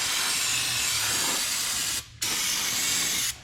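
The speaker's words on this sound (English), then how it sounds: "Come in here, spray down your brake parts, and especially your rotor" Loud, close aerosol hiss as brake cleaner is sprayed on a Mazda 3 front brake rotor, spraying steadily, cutting off briefly, then resuming in a second long burst before stopping.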